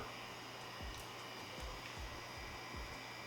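A Mummy Anubis rotary tattoo machine runs at 2.4 volts, making a steady close-up motor whine with a soft low pulsing flutter, alone without talk.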